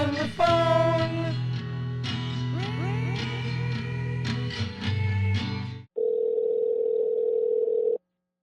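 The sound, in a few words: telephone line during a prank phone call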